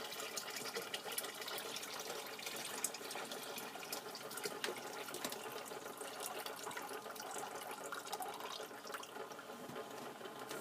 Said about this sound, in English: Swish it around a little bit and then add that to your primary fermenter.